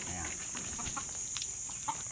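A mother hen and her chicks cluck softly at close range, with brief scattered calls and light peeping under a steady high hiss of background noise.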